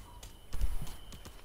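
Horse mount galloping in the video game Realm Royale, a few heavy hoof thuds in an uneven rhythm, close and moderately loud over a faint background hum.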